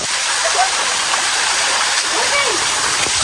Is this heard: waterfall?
yes